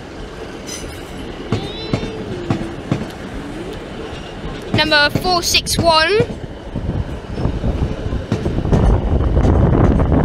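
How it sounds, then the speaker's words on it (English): Class 150 Sprinter number 140 and a Class 156 Super Sprinter pulling into Manchester Piccadilly station, with rumbling wheels, brief squealing and a loud hum swelling near the end, under intermittent talk. "It is 150, number 140. Sprinter, it's a heading a service. The back train is a class 156 Super Sprinter."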